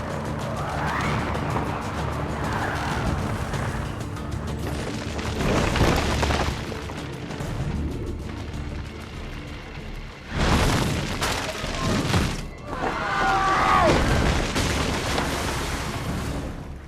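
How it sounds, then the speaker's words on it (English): Sharp explosive booms and crashes like firecrackers going off in Assassin's Creed 2, several loud bursts around the middle and latter part over a busy game-world backdrop. "Probably just kids with firecrackers."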